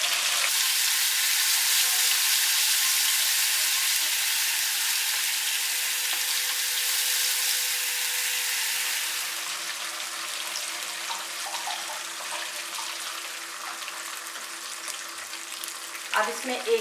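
Ginger garlic paste and whole garam masala frying in oil in a pan for achari mutton, a steady loud sizzle throughout that eases slightly partway, with faint voice underneath.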